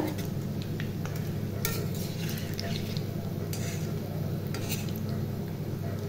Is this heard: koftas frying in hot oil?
yes